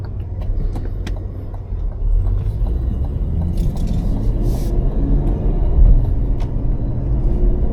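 An 800hp Cadillac CT5-V Blackwing is driven slowly, its engine making a deep, steady low rumble from inside the cabin, with small clicks and rattles over the top.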